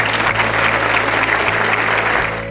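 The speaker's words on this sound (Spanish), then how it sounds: "Un fuerte aplauso para toda la gente del DIF." An audience at a government site inspection of a DIF shelter project breaks into loud, continuous applause, a thick even clatter with a low steady hum beneath, tapering slightly at the end.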